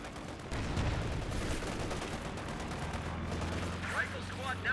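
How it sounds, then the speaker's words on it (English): In Company of Heroes 2, far-off gunfire crackles in dense, rapid bursts against a steady battle din, with a low engine rumble near the end. "One of our fighting positions is sustaining fire."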